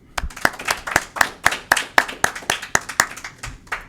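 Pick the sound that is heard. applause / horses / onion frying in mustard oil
applause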